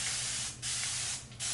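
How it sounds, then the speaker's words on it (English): Two quick bursts of a water spray bottle misting thick 4C hair, each a short hissing spritz separated by brief pauses, close to the ear. "the next step is to finally spray my hair down"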